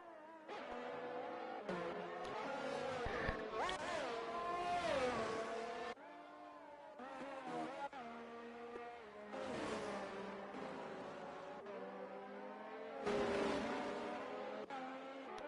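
Race cars lapping the Spa circuit at the Belgian Grand Prix in a racing video game, engines howling and shifting pitch continuously as several cars pass, loud and sustained with brief gear-change breaks.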